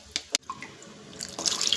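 Water going into a pot of village-style ridge gourd sambar while cooking, with a couple of sharp splashes and drips and then a louder running pour at the end. It is heard close up and fairly quiet.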